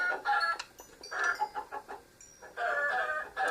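Minecraft chickens clucking in bursts on a farm: a cluster of close, short clucks, a pause, then more clucking, clear and alone with no talk.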